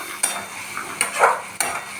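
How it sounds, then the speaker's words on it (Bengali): Chicken masala with Kashmiri chilli powder sautéed in a pan, three sharp scrapes of a spatula against the metal over a soft, steady sizzle, close and clear. "আর মশলাটা এবার কষা হচ্ছে।"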